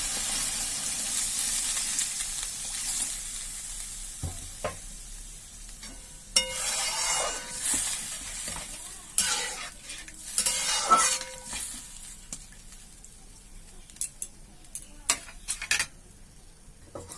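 Water poured into a sizzling pan of mustard and eggplant gravy for rui fish, a steady hiss followed by bursts of loud bubbling and spoon scrapes against the pan.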